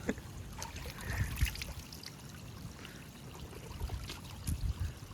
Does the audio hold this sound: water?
yes